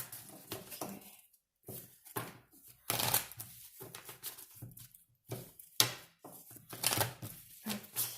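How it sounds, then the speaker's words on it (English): Tarot cards being shuffled by hand in several uneven bursts of riffling and soft slapping, close and fairly quiet, with short pauses between bursts and a faint voice at moments. "Just going to shuffle a few times if I can."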